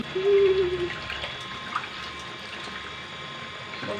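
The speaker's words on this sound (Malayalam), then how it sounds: "ഒരു നെല്ലിക്ക വലുപ്പത്തിൽ പുളിയൊന്ന് പിഴിയട്ടെ കേട്ടോ" Gooseberry-sized lump of tamarind squeezed by hand into water in a kitchen, with a brief close splash and trickle early on, then a low, steady wet background.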